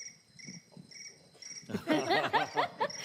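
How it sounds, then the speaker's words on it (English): Crickets chirp in steady, evenly spaced pulses at a quiet level, then laughter and lively chatter from a group nearby rise over them. "You got crickets."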